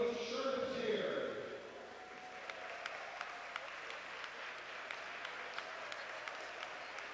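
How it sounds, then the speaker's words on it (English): A crowd at a boys' varsity basketball game applauds in a gym, a steady wash of clapping with some voices early on, then thinning out as scattered individual claps ring out. "Give them a round of applause."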